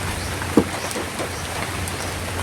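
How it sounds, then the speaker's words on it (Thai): Rain falls steadily at a Thai temple, Wat Phra That Umong Sila Banphot, a soft, even hiss with a brief nearby knock early on and no talking. "มาถึงกับฝนตกพอดีครับ"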